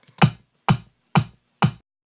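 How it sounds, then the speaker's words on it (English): Four evenly spaced punchy kick drum hits from a Deep Tech drum kit, each a short thump with a bright click on top, played alone at a steady moderate tempo. "So the first thing you want to do is set up the kick drum"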